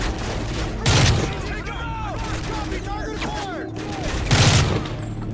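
Gunfire in a video game firefight between Delta Force and Russian troops in New York City, with two loud bursts of shots standing out over a busy background of game sounds and radio chatter.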